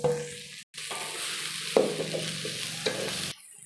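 Chopped onions and green chillies frying and being stirred in a pan, a steady sizzle with scraping stirs and a brief break partway through.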